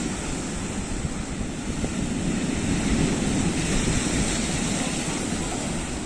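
Huge sea waves surge and crash onto a beach at high tide during a full-moon spring tide, a continuous loud roar of surf with heavy wind buffeting the microphone throughout.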